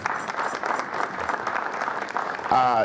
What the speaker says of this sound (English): Big round of applause for Harry, please.